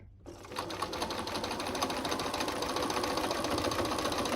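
A Bernina sewing machine stitching a picture frame flange border quilt, a fast, steady mechanical whirr and rapid needle clatter starting abruptly after a short pause, close and constant.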